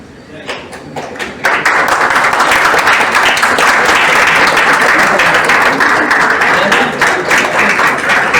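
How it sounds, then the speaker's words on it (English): Audience applause at the close of an Airbus road show session on flight simulator training, starting with a few scattered claps and swelling into loud, sustained clapping from a crowd, with voices mixed in. "Big applause here."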